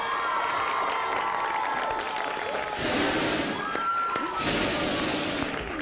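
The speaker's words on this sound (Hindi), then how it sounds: "आपकी भरपूर तालियों में" Studio audience on a morning talk show cheering and applauding, two loud bursts of clapping and shouts standing out over a steady murmur of crowd noise.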